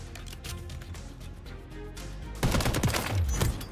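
Rapid gunfire in Call of Duty Warzone, a fast string of close automatic shots that gets louder and denser in the second half, with no talk over it.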